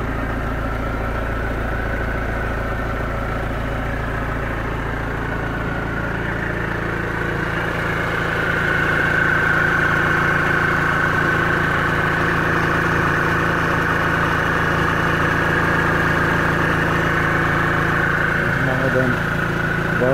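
A 2004 Mercedes-Benz Vito van's 150 hp engine idles steadily with a low, constant rumble and hum, rising slightly in level partway through, with no talking.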